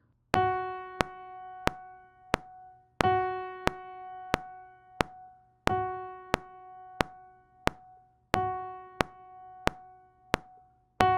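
Sustained keyboard tones playing whole notes in a steady slow rhythm, each long note ringing for four beats before the next, with soft clicks of key presses, no talking.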